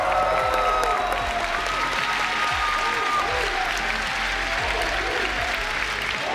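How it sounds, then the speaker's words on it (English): An esports arena crowd at a Dota 2 Major applauds OG, a dense, continuous wash of clapping that holds steady from start to finish, with faint voices underneath. "we make one last round of applause for Taiga, No-Tail, and the rest of OG"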